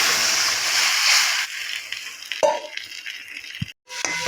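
A mixture stirred in a cooking pan: an opening stretch of hissing sizzle gives way to wet scraping and splashing stirs with a couple of sharp clinks, heard close and alone.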